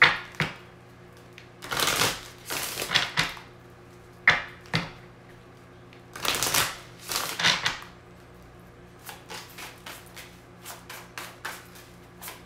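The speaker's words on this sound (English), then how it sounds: "Let's pull some physical feature cards, and then we're going to pull some characteristic cards" Oracle-style cards being shuffled and pulled from a deck, giving crisp riffling bursts in several clusters with quiet gaps between them, then lighter flicks and taps, close by and alone.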